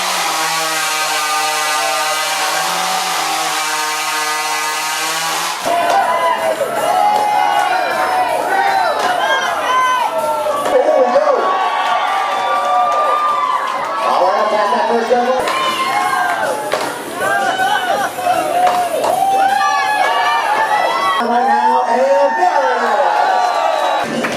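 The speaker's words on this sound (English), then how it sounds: "keep those hands together, everybody. Cheer your guys on out here." A lumberjack competition crowd cheers and yells continuously, with children's shouts mixed in and a chainsaw-like whine at the start, while an announcer talks over the noise.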